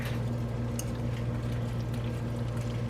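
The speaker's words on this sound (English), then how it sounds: "I pour it in there and it starts to cook." Dark sauce poured into a hot pan of beef and broccoli gives a soft, continuous liquid gush with a gentle simmering hiss. A low kitchen hum runs underneath throughout.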